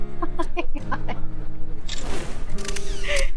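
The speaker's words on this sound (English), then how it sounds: "It's a command for the shutter on my phone." A phone camera shutter clicks once, sharp and brief, near the end, after large church bells ring a couple of feet away in Piran, Slovenia, their tones fading into a broad outdoor wash.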